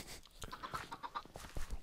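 Chickens in the Minecraft video game give a few short, soft clucks over faint background game sounds.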